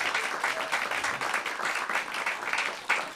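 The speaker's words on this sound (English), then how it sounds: "Can y'all clap for her?" A room audience applauds a travel scholar at a storytelling event, a short burst of brisk, dense clapping at moderate distance.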